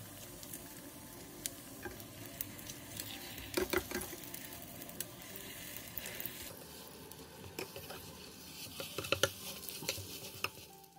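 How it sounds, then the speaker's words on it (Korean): Beaten egg sizzles softly over medium-low heat in an oiled pan while being rolled into an omelette, with a steady quiet frying hiss and occasional light taps and clicks of a utensil against the pan. "팬에 기름을 두른 뒤 계란물을 부어가며 중약불에서 돌돌돌 말아주세요"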